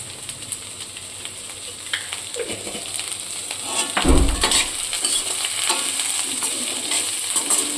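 Cabbage and onion stir-frying in a pan for dhaba-style hakka noodles, a soft steady sizzle with scraping and clinking as the vegetables are tossed, plus one louder clatter midway, close by.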